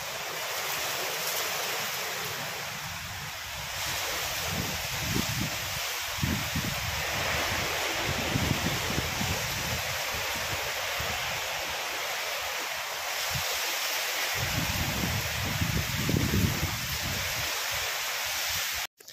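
Heavy rain runoff streaming along a street past a row of shops, a steady broadband rush of flowing water that holds at the same level for the whole stretch, with no voices over it.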